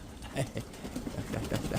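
A pigeon held in someone's hands gives soft, low, throaty coos that repeat in short pulses, close to the microphone over a rustling, noisy background.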